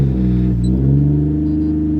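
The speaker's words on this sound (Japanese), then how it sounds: "エンジンもじゃあちょっとかけちゃいますね。" A Toyota Mark II JZX110 iR-V with a 1JZ-GTE turbo inline-six idles after starting, a steady deep rumble close by with a slight rise in revs partway through, heard alone on a cold day.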